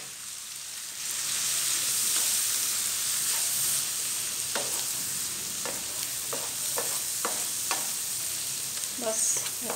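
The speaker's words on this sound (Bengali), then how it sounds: "ভেজে তারপরে মশলাগুলো দিয়ে ফেলবো, ধনিয়া, মরিচ, হলুদ পরিমাণ মতো দিলাম।" Ground spices (coriander, chili, turmeric) sizzle steadily in hot oil in a pan, with a spoon scraping and stirring in sharp irregular clicks over the continuous frying hiss.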